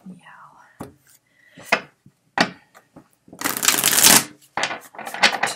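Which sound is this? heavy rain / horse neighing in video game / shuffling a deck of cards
shuffling a deck of cards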